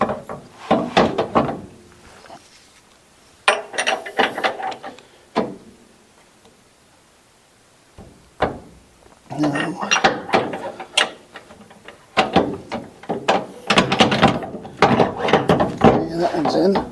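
Mechanical clicks, clanks and ratcheting as U-bolts are started on the front suspension of a C10 truck during a QA1 suspension install, in irregular bursts close by with quiet gaps and some speech among them.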